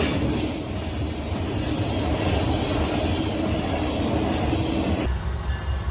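A CSX freight train, Q363, rolls past with a Union Pacific SD70ACe locomotive trailing second, a loud, close, continuous rumble and roar of engines and wheels that shifts abruptly near the end.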